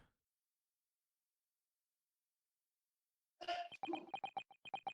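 A single sneeze from someone in another room, distant and muffled, comes after a long silence and is followed by a quick run of short bursts.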